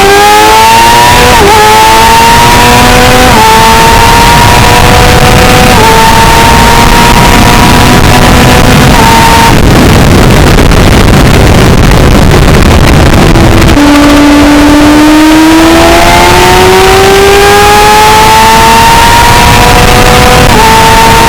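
A 2021 Kawasaki ZX6R fitted with a 43-tooth rear sprocket revs loudly through rising and falling engine notes, with a brief rough stretch midway before the pitch climbs again.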